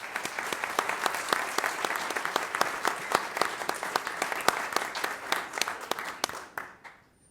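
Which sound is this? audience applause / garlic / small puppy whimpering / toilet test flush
audience applause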